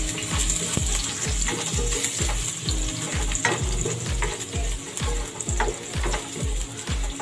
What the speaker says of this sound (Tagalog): nilagyan na po rin natin ng konting mantika para sa ating paggigisa ng ating bawang at sibuyas